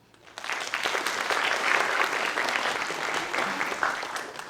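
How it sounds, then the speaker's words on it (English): Theatre audience applauding at a fringe mind-reading show, steady dense clapping starting abruptly and holding at full strength throughout, a loud close crowd with no voices standing out. "Another round of applause."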